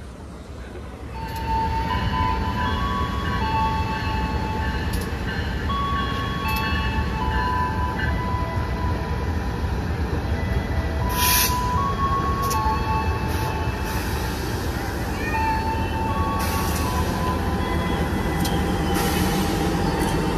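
A Malabar passenger train bound from Malang to Bandung rumbles loudly alongside while being overtaken by a Pasundan economy train, a continuous close roar of wheels and carriages lasting about twenty seconds with no talk.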